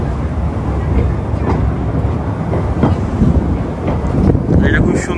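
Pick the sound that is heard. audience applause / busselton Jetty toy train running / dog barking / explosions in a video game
busselton Jetty toy train running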